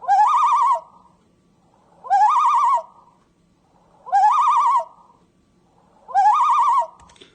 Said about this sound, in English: The final call of the common loon is called the tremolo.